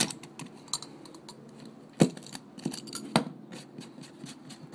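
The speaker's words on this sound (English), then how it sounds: "And then you can trim it up a little bit with a knife." Small knife trimming material around model railroad turnouts on a Southern Pacific Central Valley layout, heard as light close-up scraping and cutting clicks with two sharper snaps, no talking.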